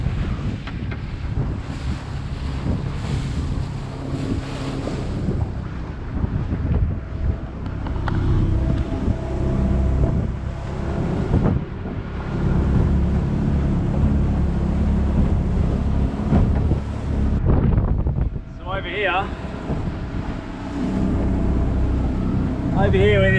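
A fishing boat motors in toward an inshore beach in Western Australia, its engine a steady low drone mixed with strong wind buffeting the microphone and water sloshing, with a brief higher whine near the end.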